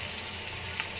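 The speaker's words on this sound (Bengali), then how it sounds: "পেঁয়াজ কুচিটাকে আমি কিছুক্ষণ ভেজে নেব" Chopped onion frying in hot oil with whole spices, a close, steady sizzling hiss that holds for a moment without speech.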